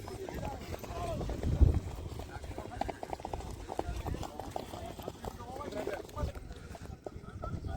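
Hooves clatter in rapid rhythmic beats as horses gallop in a rural horse race in Kutch, with a commentator talking over the pounding throughout.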